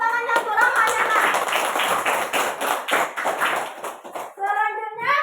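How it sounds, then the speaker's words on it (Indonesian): Children in a classroom clap their hands together in a dense, lively burst of about four seconds, with a teacher's voice speaking before and after the applause. "Tepuk tangannya untuk Rahmanya, Nak."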